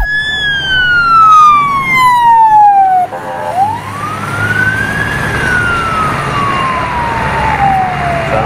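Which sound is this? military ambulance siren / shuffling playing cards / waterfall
military ambulance siren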